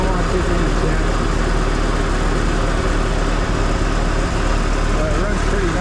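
A Detroit 2-53 two-stroke diesel engine runs steadily at a loud, close, even idle with a dense low drone and no breaks.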